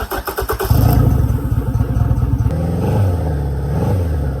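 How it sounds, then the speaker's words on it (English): An outboard motor fitted with a newly replaced fuel pump cranks in rapid pulses, then catches and runs loudly nearby with an uneven, throbbing idle and no speech. "let's try to start it for the first time"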